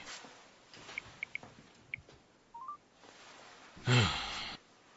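Several short telephone dialing tones beep in sequence, followed by a brief rising tone and a louder burst of sound at the end.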